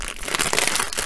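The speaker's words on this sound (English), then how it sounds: "More crinkling." Plastic packaging of a diamond painting kit crinkles loudly up close during an unboxing, a dense burst of crackling rustles.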